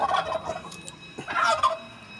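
Turkeys gobble at the animal enclosure of a shrine, two bursts of rapid rattling calls close by with a brief pause between, no talk.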